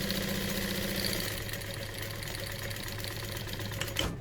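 A sewing machine stitching vinyl straps for a vintage barrel bag, a steady close mechanical whir with fast regular needle chatter that slows and stops near the end, with no talk.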